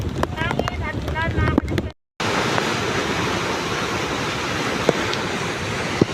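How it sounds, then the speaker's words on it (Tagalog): Loud, roaring wind and rain noise from a storm at a dam rushes continuously, briefly cut by a moment of silence, with some faint voices near the start. "kahit gaano kalakas ang hangin at ulan"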